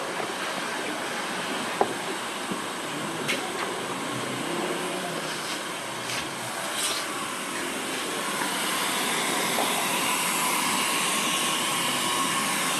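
A steady, loud whooshing hum of a vacuum cleaner running continuously, with a few faint clicks and knocks.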